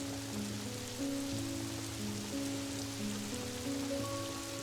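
Steady rain falls in Pokémon Pokopia, a soft hiss under quiet game music, with no voices.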